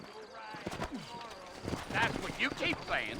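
Horse hooves clip-clop at a steady trotting pace in the video game Red Dead Redemption while voices talk over them.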